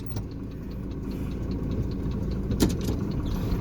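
A truck engine idles steadily at a driving-school lesson for a semi-trailer licence, a low continuous rumble with a brief louder knock partway through, no talking.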